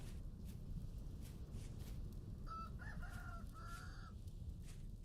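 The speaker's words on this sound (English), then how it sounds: "I just heard a rooster." Rooster in the Vintage Story video game clucking in short, faint calls around the middle, heard over a steady low ambient rumble with no talk.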